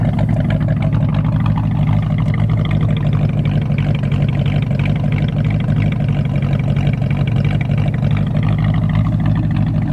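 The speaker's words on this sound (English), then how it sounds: "I just want you to listen to the motor, or listen to the exhaust" A restored 1968 Ford Mustang GT with the 390 V8 and five-speed idling, a steady deep burbling exhaust rumble held throughout, loud and close, with no talk.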